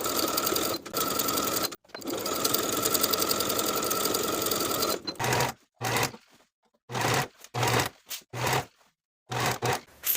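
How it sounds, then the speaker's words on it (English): A sewing machine stitching a sleeve armhole seam on a tee, a steady whirring run for several seconds followed by a series of short stop-and-start bursts of stitching, moderately quiet with no talk. "Sew the armhole seam with a 3/8 inch seam allowance and finish the raw edges together."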